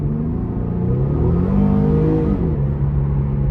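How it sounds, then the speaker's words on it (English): A 2015 Infiniti Q50 Sport with the 3.7 V6 and 82,317 miles accelerates on a road test drive, heard from inside as a loud, steady engine drone whose pitch climbs, then settles, with no talking. "Q50, pretty quick, just a little bit of hesitation getting started here."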